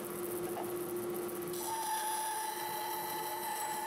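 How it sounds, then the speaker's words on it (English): A power tool whines steadily while cutting tenons on the end of a walnut breadboard for a shelf, a constant close tonal drone that shifts pitch partway through, with no talking. "I'm cutting the tenons on the end of the breadboard for the shelf"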